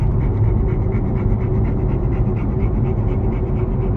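A dog pants rapidly and steadily close by inside a BMW M4, quick rhythmic breaths over a low engine rumble.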